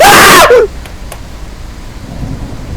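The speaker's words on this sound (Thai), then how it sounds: "ฟ้าแลบฟ้าแลบแบบนี้ หมายความว่าไง" A thunderstorm in the driving horror video game Endless Suburbia: a loud crack of thunder bursts at the start and cuts off quickly, leaving faint rain hiss and a few soft distant rumbles afterward.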